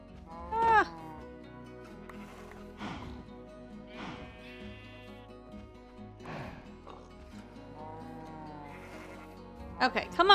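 Minecraft cows moo and low in a video game, several drawn-out bleating calls spaced through the stretch over a quiet background, with a short louder burst near the end.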